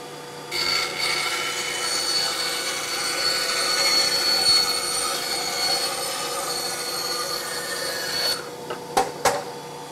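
Einhell TC-SB 200 benchtop band saw cutting through hard, rigid coated MDF: a continuous loud rasping, whining cut lasting about eight seconds, ending with a few short knocks as the piece comes free, no talking.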